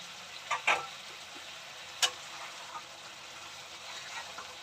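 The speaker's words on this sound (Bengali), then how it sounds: "ঝোল ফুটে গেছে বন্ধুরা, ভাজা মাছগুলো দিয়ে দিলাম" Prawn malai curry gravy, made without coconut, bubbling in the pan after fried prawns and their frying oil go in: a faint, steady hiss broken by a few sparse soft pops.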